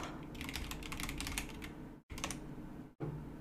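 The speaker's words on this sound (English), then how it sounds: "It might be if we type volcano." Keys clatter on a computer keyboard in quick, uneven bursts, close and quiet, broken by two short silent gaps.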